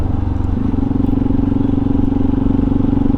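A Hero Xpulse 200 4V motorcycle engine revs up sharply and holds a loud, steady, throaty drone close by, with no talking over it.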